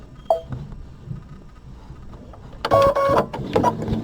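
An embroidery machine begins stitching along a marked line, a brief clicking start followed by a loud rapid mechanical whirring with faint ticks, close and without talk.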